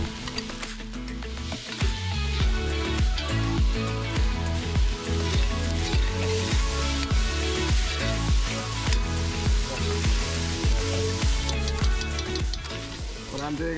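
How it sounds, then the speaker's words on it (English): Onions caramelizing in a cast-iron potjie pot with garlic and sofrito, a loud, steady sizzle and frying crackle that runs continuously and close up. "I just like to caramelize the onions in that a little bit"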